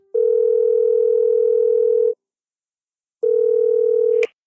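A telephone ringback sounds as a call goes through, two long steady tones separated by a pause, the second cut short by a click.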